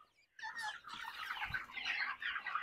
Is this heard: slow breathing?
no